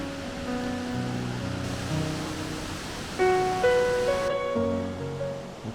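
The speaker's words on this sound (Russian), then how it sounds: "и шум водопада." A waterfall rushes at a quiet mountain resort in Taiwan with lakes and footpaths, a steady broadband roar with sustained tones layered over it and growing slightly louder partway through.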